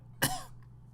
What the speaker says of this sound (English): I'm going to cough into it.